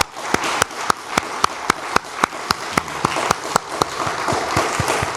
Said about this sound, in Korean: 우리 남자분들만 그런 마음으로, 우리 여성분들을 존경하고 사랑하는 마음으로 남자분들만 박수 한번 하겠습니다